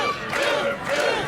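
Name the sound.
arena crowd cheering a downed wrestler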